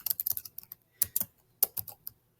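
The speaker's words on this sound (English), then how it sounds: "So if I'm typing along" Quick bursts of typing on a computer keyboard while writing in an online document, close and clear, with uneven clusters of keystrokes separated by short pauses.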